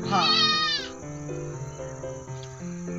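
A bleat from a shepherd family's flock of sheep sounds close and loud at the start, then fades into a steady background of insect-like buzzing and faint tones.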